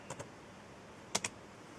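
Two short pairs of crisp keystrokes on a computer keyboard, one pair near the start and another a second later, clicking sharply against a quiet room with no talk.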